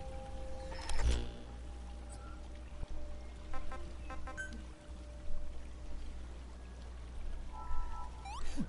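Water pours and trickles steadily while the player gathers it in the video game Metal Gear Survive, a continuous close stream with faint game tones and clicks over a low hum.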